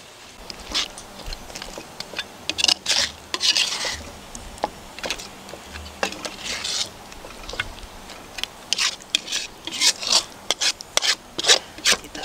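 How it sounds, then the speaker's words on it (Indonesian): Fried chicken being stirred together with a cooked honey chili sauce, giving repeated scraping, rubbing strokes in an uneven rhythm, close and fairly loud with no talking. "aduk jadi satu ayamnya dengan saus yang sudah kita masak tadi"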